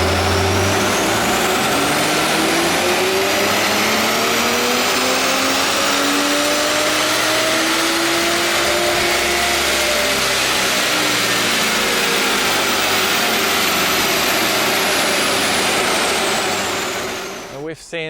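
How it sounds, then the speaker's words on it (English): Stock Toyota A90 Supra engine revving on a dyno, one long loud pull rising steadily in pitch with a droning exhaust, ending in a brief tail-off. "we've put the car on the dyno in completely stock form and measured what the base power to the"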